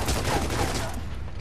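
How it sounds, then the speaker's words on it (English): Rapid overlapping gunfire from two players in Gears of War 3 multiplayer King of the Hill, a dense continuous burst of shots filling the short moment at steady loudness. "They're both shooting."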